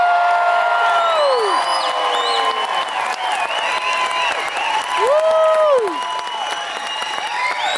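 Cruise ship audience loudly cheers, whoops and applauds for the onboard housekeeping team, a dense continuous roar of clapping with shrill rising and falling whistles and shouts throughout.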